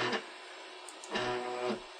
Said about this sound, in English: the x-axis, which is incredibly noisy on mine, but it is all fine. It's just coming from the noise coming from the motor.